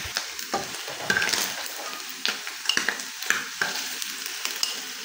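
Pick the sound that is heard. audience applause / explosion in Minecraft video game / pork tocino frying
pork tocino frying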